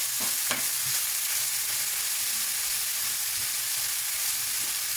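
Chicken and vegetables sizzle and are stirred in olive oil in a pan, a dense continuous frying hiss with a few soft scraping stirs, close and steady throughout.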